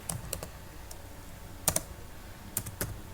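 Typing on a computer keyboard while configuring extensions and a dial plan: a few sparse, light key clicks spread out with pauses between them, close and quiet, with no talking.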